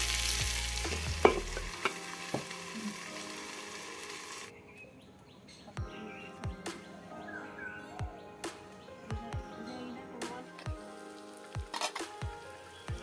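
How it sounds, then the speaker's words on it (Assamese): Tora gozali, an Assamese dish, sizzles in a pan over low heat while a spatula stirs it, first as loud broadband frying and then as quieter crackling with sharp, irregular spatula scrapes and taps. "মাজে মাজে মই হেতাৰে ভাজিখন লৰাই দিছোঁ"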